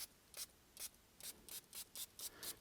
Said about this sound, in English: Then I'm going to spray on the surface.